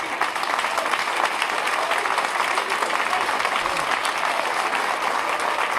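A university audience at an excellence-day ceremony applauds a professor after his speech, dense continuous clapping from a large crowd holding steady and loud for several seconds.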